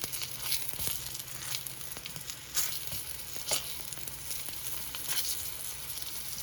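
Garden squash pieces fry in a pan, a steady crackling sizzle with scattered pops and occasional scraping stirs, close and continuous throughout.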